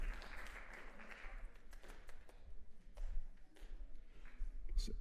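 A jazz audience at a Gretsch guitar ensemble performance applauds after a solo, with faint, diffuse clapping that carries on steadily for several seconds alongside scattered taps.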